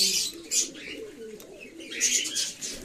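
Pigeons coo inside a pigeon loft, with soft, repeated throaty coos close by and a few higher chirps. There is no speech.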